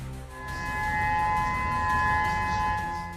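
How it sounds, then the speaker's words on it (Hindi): Steady tsunami warning sirens wail continuously in Hawaii after a magnitude 8.8 earthquake in Russia, sustained tones droning over a low rumbling background, fairly loud and unbroken throughout. "सायरन गूंज रहे हैं"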